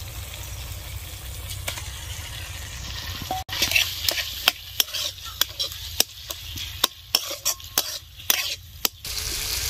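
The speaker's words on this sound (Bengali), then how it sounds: "2 মিনিট মতো পটলের ভেতরের অংশ মশলার সঙ্গে ভালো করে ভেজে নিয়েছি।" Pointed gourd filling frying with turmeric and chili powder in a pan, a low steady sizzle, then a run of sharp spatula scrapes and taps as it is stirred, fairly quiet and close.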